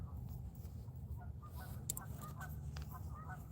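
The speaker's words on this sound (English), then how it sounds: "Goose, Bruce, I hear you family." Geese honking by Old Hickory Lake in Tennessee, faint scattered honks carrying from a distance over a steady low rumble of wind or water.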